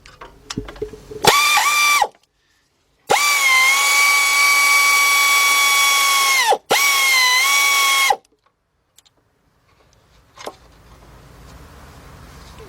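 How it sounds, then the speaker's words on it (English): An air ratchet spinning off 13 mm bolts on the engine of a 2004 Chevy Monte Carlo 3.4, two loud close sustained whirring bursts separated by a brief pause, followed by quiet and a single clank. "So let me get my air ratchet."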